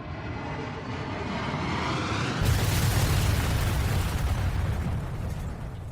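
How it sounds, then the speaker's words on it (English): An airliner at dangerously low altitude plows into the waterlogged Everglades marshes, a sustained roaring rumble that swells abruptly into a heavier, louder crashing roar with no speech. "The aircraft, now at dangerously low altitude, plowed into the marshes of the Everglades."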